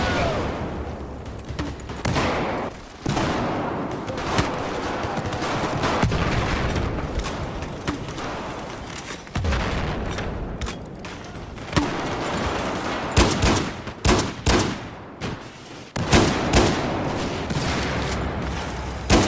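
Shotgun gunfire in the video game Battlefield: repeated sharp blasts mixed with a busy battle of other gunfire and explosions, loud and continuous, with the closest shots coming in quick bursts toward the end.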